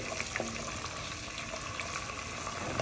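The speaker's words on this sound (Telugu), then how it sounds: "సో ఇవన్నీ యాడ్ చేసిన తర్వాత లైట్గా ఫ్రై చేసుకోవాలి." Spices and kasuri methi lightly fry in a pan for fish gravy, giving a brief, dense, close sizzle with small crackles throughout.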